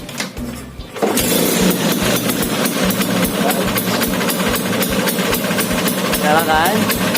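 A Vespa 2T two-stroke scooter is kick-started after a few muffled strokes and bursts into a loud, close, rapid buzzing idle that keeps running steadily.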